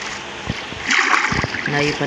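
Water splashing and sloshing as a player swims in the Minecraft video game, a steady watery wash at moderate level with a few soft strokes, and a person talking over it.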